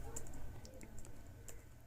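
Computer keyboard keys are typed as an address is entered, giving a few faint, scattered clicks over a low background hum while someone speaks.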